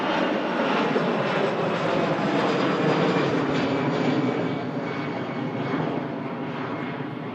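EasyJet airliner at Manchester Airport, a loud, broad engine roar rumbling steadily and easing slightly as it continues, heard alone without talk.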